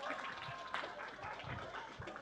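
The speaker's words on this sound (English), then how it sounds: "Big round of applause!" Brief applause from workshop participants, a soft, uneven patter of scattered clapping at low volume, with some talking mixed in beneath it.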